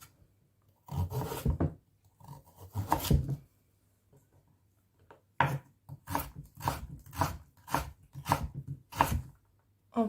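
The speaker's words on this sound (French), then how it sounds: "On va hacher les carottes." A knife chops carrots on a cutting board while preparing steamed shrimp dumplings. Two short bursts of chopping come first, then a longer run of crisp, regular chops, close and clear with no talk.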